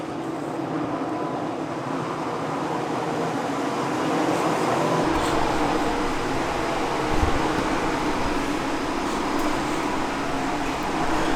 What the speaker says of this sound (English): We have a air compressor over there. It's like crazy loud.